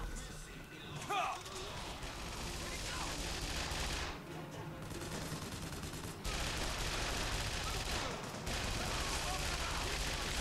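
A crank gun fires in the video game Bioshock Infinite: bursts of rapid, rattling machine-gun fire with crashes and booms. A player talks over the game sound.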